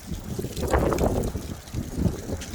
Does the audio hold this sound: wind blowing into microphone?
yes